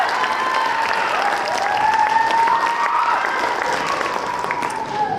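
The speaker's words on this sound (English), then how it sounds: "Can we give it one more round of applause for the EHS Concert Band?" A school concert band audience applauds after a Christmas concert, a steady wash of clapping with a few faint cheers and some talk mixed in.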